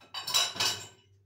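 Dishes, pots and pans clatter against cutlery in a home kitchen while washing up after a meal, two close bursts of clinking and scraping before it fades out.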